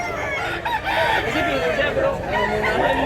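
Chickens clucking and crowing in a busy, continuous farmyard din, fairly loud and steady throughout.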